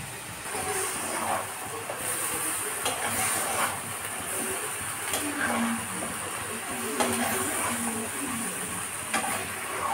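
A bottle gourd curry is stirred and sautéed in a pan, with a steady soft sizzle and repeated scraping strokes of a spatula at close range, without talk.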